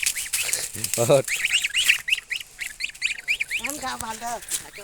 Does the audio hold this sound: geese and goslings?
yes